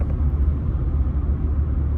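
Steady low engine and road rumble from a Ford F-150 towing a gooseneck trailer at 65 on the highway, a continuous droning hum with no other sounds.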